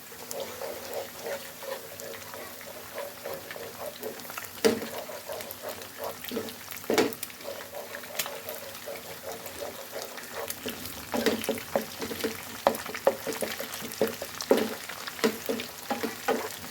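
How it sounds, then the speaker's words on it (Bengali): An egg with chopped onion frying in a pan, stirred with a utensil: steady sizzle broken by scraping stir strokes and occasional louder clatters, close and alone. "একটি ডিম নেড়ে ভালোভাবে ভেজে নিতে হবে।"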